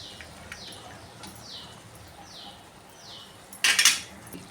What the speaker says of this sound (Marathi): त्याच्यावर मी अंड टाकत आहे बघा चार अंड टाकत आहे